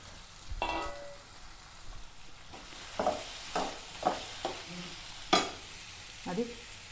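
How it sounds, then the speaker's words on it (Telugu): Okra and chana dal stir-fry in a pan, with a soft steady sizzle under repeated scraping strokes of a spatula, close and fairly quiet. "ఇప్పుడు మనం బెండకాయ ఫ్రై కావాలి"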